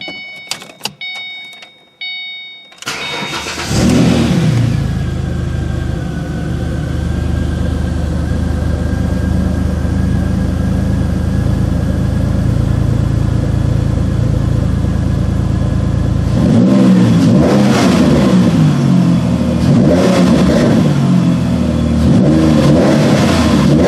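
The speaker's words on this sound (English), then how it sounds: "Alright, let's go ahead and start this car up," A Ford Mustang 4.0L V6 with new spark plugs, wires and ignition coil cranks and fires up, settles into a loud steady idle for several seconds, then revs repeatedly in quick bursts near the end.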